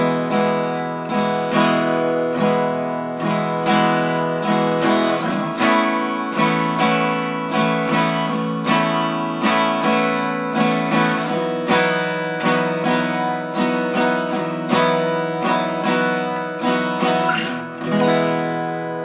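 Acoustic guitar strumming drone chords in a beginner-lesson pattern, each chord held two measures, with an even, rhythmic down-up strum that rings out loud and alone throughout with ringing open-string sustain.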